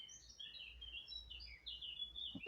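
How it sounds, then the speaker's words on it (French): Small birds chirp outdoors in quick, high, scattered tweets that keep going over a soft background hush. The calls are faint and sound some distance off, with no voices. "J'entends les petits oiseaux."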